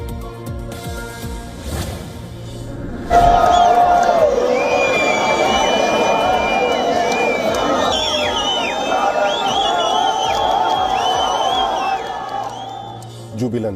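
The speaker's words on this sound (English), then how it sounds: "Jubilant crowds greet Palestinian prisoners freed by Israel." Jubilant crowd cheering and whooping for freed Palestinian prisoners arriving in Ramallah in the occupied West Bank, a loud sustained roar of many voices with shouts and whistles rising after a few seconds.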